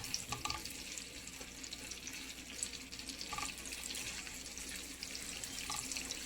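Chana dal frying in a pan gives a continuous, close sizzling hiss with a few faint crackles and no talk.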